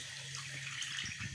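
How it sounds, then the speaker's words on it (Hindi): Rice boiling in a pot of water for steamed rice gives a steady, close bubbling hiss broken by soft low pops. "ये जनाब अभी चावल भी उबलना शुरू हो चुके हैं।"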